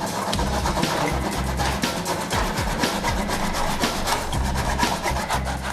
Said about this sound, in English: making hard work of that sawing